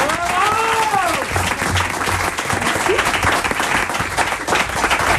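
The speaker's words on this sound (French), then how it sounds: "30 secondes, c'est pas 40, on l'applaudit" A studio audience claps after a song, dense sustained applause close and loud throughout, with a voice briefly audible over it near the start.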